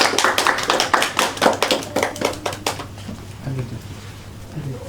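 A classroom group applauds for the first presenting group in a geography microteaching session, a burst of quick, loud hand claps that thins out and fades within about three seconds, leaving faint room noise.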